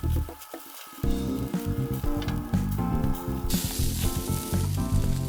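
Ground lamb lula kebab grilling on skewers gives a steady, loud sizzle and spatter that runs throughout, with a tonal musical layer underneath.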